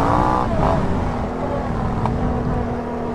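A Can-Am Renegade 1000 UTV engine revs sharply at the start, then settles into a steady driving drone at moderate distance, heard alone without speech.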